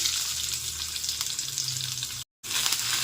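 Chopped onion hisses and crackles as it fries in hot mustard oil with torn bay leaf, a loud, dense, close sizzle that runs steadily apart from one brief cut to silence.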